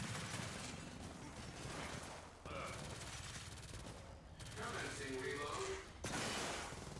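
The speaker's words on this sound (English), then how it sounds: "Instantly assaults me with heavy fire." Heavy sustained gunfire in the video game Gears of War 4, a dense continuous rattle of automatic fire with brief breaks, loud and near with voices mixed in.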